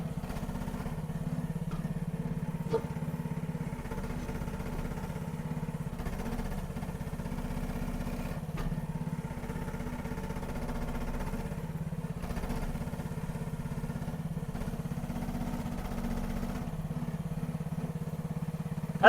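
Small engine of a cheap SDLE18P mini excavator runs steadily at high RPM for the whole stretch, a continuous close droning rumble with occasional faint clanks from the machine.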